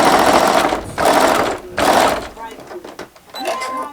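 Sewing machine stitching quilt block fabric for a pinwheel star quilt, three loud close bursts of rapid needle whirring with short pauses, followed by quieter mechanical clicks and someone talking.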